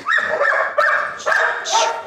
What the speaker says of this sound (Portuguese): Bonito cachorro.